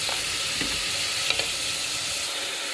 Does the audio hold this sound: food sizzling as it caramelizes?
yes